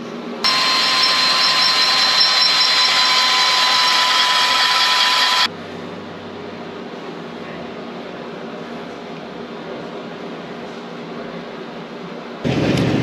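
A steady, loud whining drone of a power drill with a tapping drill bit for a 1/8 BSP thread on a Harley-Davidson runs for several seconds, then drops to a quieter, lower hum before rising again at the end.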